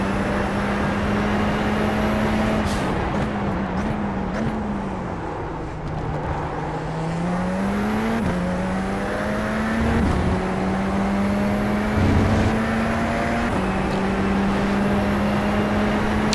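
Engine of a Radical SR race car in a sim racing game holds a loud, steady drone, dipping and climbing in pitch as the throttle and gears change, heard alone without voices.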